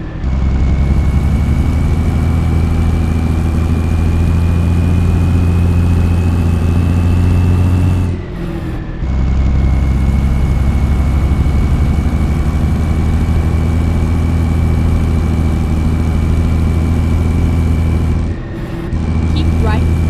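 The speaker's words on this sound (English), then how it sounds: "we're just kind of being quiet, listening to this truck" A heavy truck engine idles in American Truck Simulator, a steady deep drone with a faint whine running throughout, loud and close, broken by two brief dropouts.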